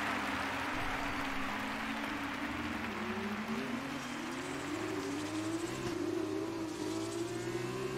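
F1 race cars in the F1 2020 racing game accelerate after a green flag restart, a steady droning engine whine rising in pitch, continuous and moderately distant with no talk.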